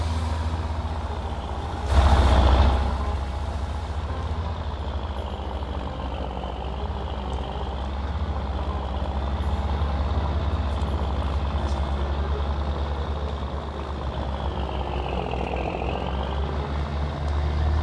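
Tamco S7000 rice combine harvester driving in Farming Simulator 19, a steady, loud engine drone with a low rumble that runs throughout, broken by a brief louder thump near the start.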